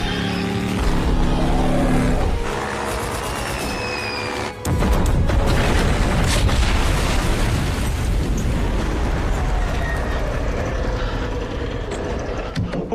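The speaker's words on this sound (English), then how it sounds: "Bombing run about to commence." Heavy explosions from a bombing run in a video game, a loud continuous roar of blasts and rumbling, with a sharp new burst midway that keeps the din going to the end.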